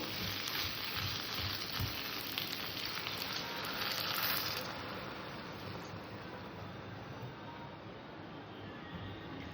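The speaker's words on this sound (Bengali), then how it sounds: "এবার এখানে আমি জল দিয়ে দেবো" Water poured into a pan of frying mixed vegetables and Malabar spinach with ginger-poppy seed paste, a loud rushing hiss and sizzle that eases into a quieter steady bubbling.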